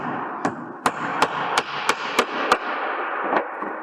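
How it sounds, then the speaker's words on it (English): Hammer blows driving a clout nail into GRP roof trim, seven or eight sharp, evenly spaced strikes close up, with a final blow after a short pause. "and you put the clout nail in"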